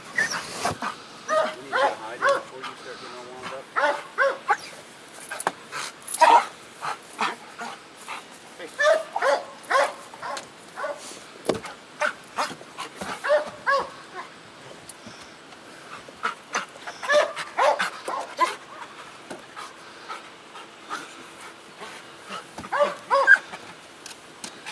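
A police K-9 dog barks repeatedly during a sheriff's re-certification training session, with bursts of loud barks and whimpers spread irregularly across the stretch, close by, with no one talking.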